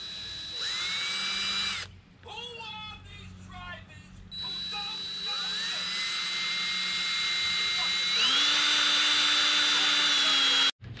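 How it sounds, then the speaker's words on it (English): Power drill boring a hole into Vaquero motorcycle handlebars during an ape-hanger install, a whining drill that spins up and down in several bursts with short pauses, close and loud. "We're going to have to drill a hole into the handlebars."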